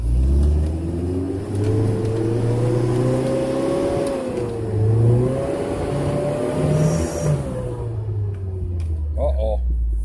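A vehicle's engine revs and strains steadily while climbing a big icy, snowy hill, its pitch rising and dipping with the throttle, close and loud, with voices talking over it.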